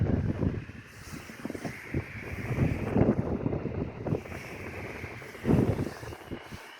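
Wind gusts across an exposed roof building site, a low rumbling rush buffeting the microphone and swelling in waves, loud and near with no speech.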